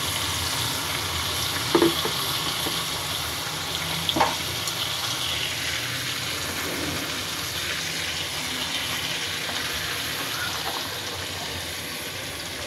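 Ginger, garlic and onion fry in a pan with a constant close sizzle, broken by a couple of brief knocks of a spoon early on.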